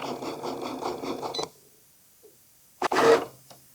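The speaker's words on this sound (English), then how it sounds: "you can go ahead and press it and let your Cricut do its thing" A Cricut cutting machine works through cardstock for paper flowers, giving a rhythmic mechanical whir and stepping pattern close by that stops abruptly. After a short silence, a brief louder clunk follows.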